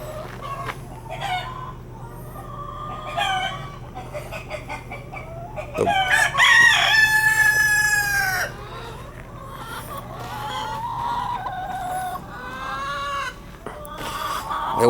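Backyard chickens cluck in short bursts, and a rooster lets out a loud crow partway through, with more clucking and squawks around it near the coop.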